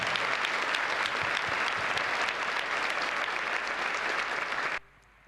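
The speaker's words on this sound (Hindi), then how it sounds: "एक बार क्वायर के लिए ताली बजा दो" A church congregation claps for the choir in a loud, dense, continuous round of applause that stops abruptly near the end.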